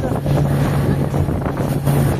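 Strong wind at Bharat Tal lake in Nepal buffets the microphone in rough, continuous gusts, with a low droning hum underneath.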